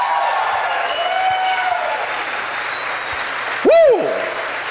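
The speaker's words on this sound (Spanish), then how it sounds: "Alguien le tiene que aplaudir más fuerte al Señor." A church congregation claps across the whole stretch as a steady, fairly loud wash of hands, with a brief voice cutting through near the end.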